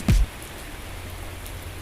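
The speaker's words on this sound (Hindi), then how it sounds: "जनवरी 2023 साल का चौथा दिन और मुसलसल तेज़ बारिश" Heavy continuous rain in Mecca, Saudi Arabia, a steady even hiss of falling water after a brief loud thump at the start, with no voices.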